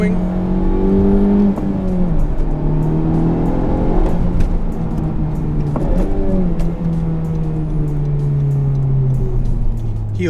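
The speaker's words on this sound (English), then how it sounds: "The exhaust is perfect. I can hear what the engine's doing." A Honda Civic Type R pulls through its gears while driving, the engine note rising in steady sweeps and dropping at each shift, with exhaust rasp throughout; an occasional voice sits under the continuous loud drone.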